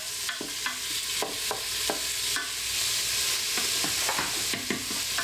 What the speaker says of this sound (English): And we'll get all that fried up first, all the beef.